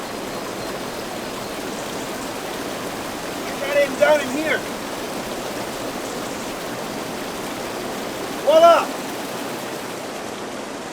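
White water stream breaking over rocks outdoors, a steady broadband rushing wash throughout, with someone speaking briefly over it twice.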